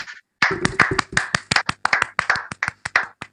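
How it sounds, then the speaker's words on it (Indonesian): A small gathering at a religious lecture clapping in a quick, uneven burst of distinct hand claps, close and loud, starting after a brief silence and running to the end. "Tepuk tangan dulu."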